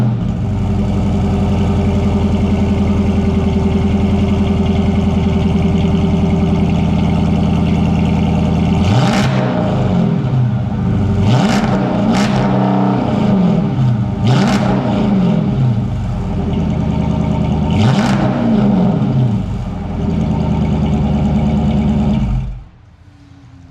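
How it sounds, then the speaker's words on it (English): A 2009 Chrysler 300C with the 5.7 HEMI V8 and SLP Loudmouth exhaust idles with a deep, steady rumble, then gets several sharp throttle blips with rising revs before shutting off near the end. "SLP Loudmouth exhaust system on my 2009 Chrysler 300C."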